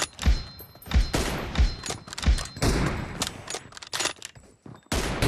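Gunfire in the video game PUBG Mobile crackles in a rapid, irregular run of close, punchy shots with heavy low thumps, broken by brief pauses and a final sharp burst.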